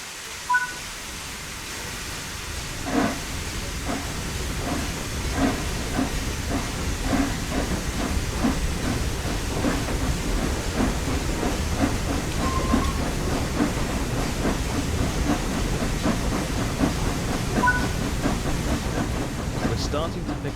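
The LNER A3 Flying Scotsman steam locomotive starts off in Train Sim World 4, a steady broad hiss of steam with faint rhythmic chuffs building under it, continuous and fairly close throughout.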